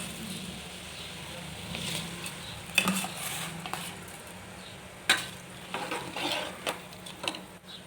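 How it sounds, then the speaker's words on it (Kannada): A spoon stirs soaked rice in a pot of water for paneer biryani, sharp metallic scrapes and clinks at irregular moments over a soft steady simmer, with a voice talking in the background. "ಅಕ್ಕಿ ಆ್ಯಡ್ ಮಾಡ್ಕೊಂಡ್ವಿ ತಿರುಗಿಸ್ಕೊಳೋಣ"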